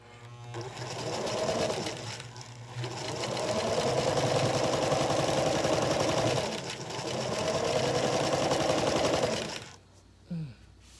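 A sewing machine quilts tiny fabric blocks in three sustained bursts of rapid stitching, separated by brief pauses, then stops with a small click near the end.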